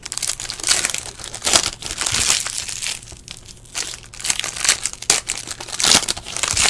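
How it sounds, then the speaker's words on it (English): A basketball trading card pack is torn open by hand, with loud close crinkling and crumpling of foil wrapper in continuous bursts, alone without talk. "I'm ripping it straight up"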